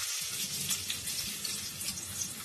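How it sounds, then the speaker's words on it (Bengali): A small handful of chopped onion frying in a cup of oil for a chicken roast, giving a soft, even sizzle and hiss with no talking. "এখন তেলের মধ্যে আমরা পেঁয়াজ দিয়ে দিব।"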